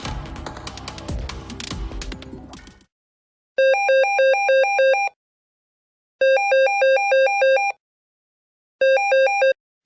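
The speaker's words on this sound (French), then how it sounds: "Le téléphone noir sonne." A black telephone in The Sims 4 rings in three separate bursts of a bright, warbling electronic ringtone, each about a second and a half long with silence between, after a stretch of busier game sound.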